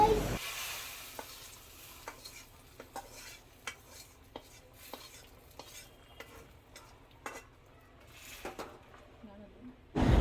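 Onion and garlic fry in oil for a dal tempering, a faint low sizzle broken by sharp, irregular spatula taps and scrapes against the pan, with a voice heard at times.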